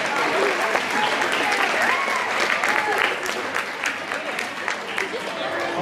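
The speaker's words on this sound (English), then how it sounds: "Come on, give them a round of applause as these kids come under the floor." An audience at a juvenile New Vogue dance final applauds as young dancers take the floor, a loud continuous round of clapping with a few cheers and voices underneath.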